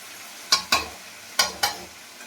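Malabar spinach stalks stirred and fried in a pan, with four distinct scraping stir strokes in two pairs, each a short bright rasp over a low sizzle, close and fairly quiet.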